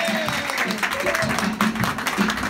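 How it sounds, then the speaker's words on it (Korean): An audience at a magic lecture show claps continuously, a dense patter of hands in a room, while a voice and a sliding tone sound faintly over it. "R-O-M 박수 주시고"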